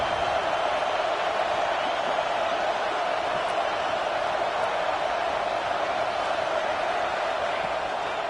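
Loud, steady roar of a football stadium crowd making noise on a third-down play, a dense continuous wall of sound with no breaks across the whole stretch.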